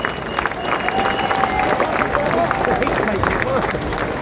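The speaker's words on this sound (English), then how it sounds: "let's have a big round of applause" A big outdoor crowd at a London protest claps and cheers steadily, loud and continuous, with a hubbub of voices mixed into the applause.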